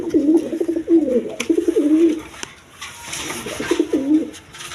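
Pigeons at a pigeon farm coo in repeated low, throaty phrases close by, with a short pause midway before the cooing resumes.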